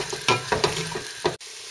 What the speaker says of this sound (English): Once the onions are soft and translucent, I'm going to add the peppers.